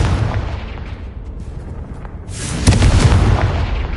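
Confringo blasting spell explosions in the Hogwarts Legacy video game: a low rumble builds, then a sharp loud blast hits and rolls into a thick, booming roar that carries to the end.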